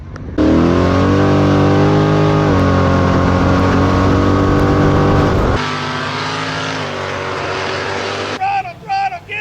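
An Ultra 4 off-road race car roars loudly on a dusty course at the Lake Havasu nationals, its engine revving hard and holding high with a shift partway through before cutting off, followed by brief voices.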